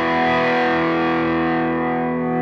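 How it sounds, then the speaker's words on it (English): A sustained overdriven chord rings out on a Pinter SB1 electric guitar, played as a power chord with an added sus9 note, dense and distorted yet clear, loud and steady as it slowly decays over a couple of seconds. "The pickups on the guitar really are clear and you can hear everything, even though it has a nice overdrive sound."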